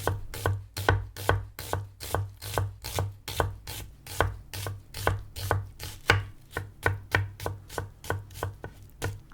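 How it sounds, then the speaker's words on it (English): A knife chops onions with the grain on a board, a steady run of about thirty crisp, close, evenly spaced strikes with no talking. "Or chopping these onions with their grain."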